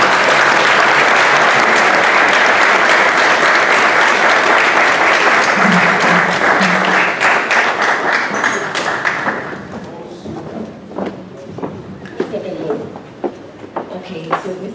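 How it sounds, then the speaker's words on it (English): After a talk by a former bank CEO, an audience breaks into loud, dense applause that holds for about ten seconds, then thins into scattered claps and knocks while a voice speaks faintly underneath. "Mr. Amoabeng deserves another round of applause."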